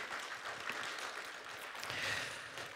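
A church congregation gives a round of applause for the greeting team during a Korean worship service, a soft, distant patter of clapping that stays faint and even from start to finish.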